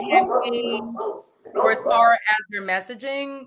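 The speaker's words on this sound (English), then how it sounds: "I apologize if you hear my dogs in the background" Dogs bark and yip in the background while someone talks over them, the barks breaking through in short bursts.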